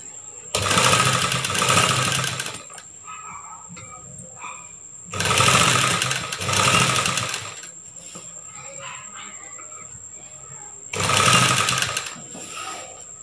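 A sewing machine stitches a churidar top in three loud bursts of running, each a few seconds long, separated by quieter pauses with light handling sounds.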